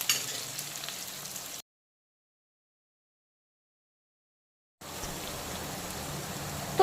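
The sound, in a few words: chopped onion frying in oil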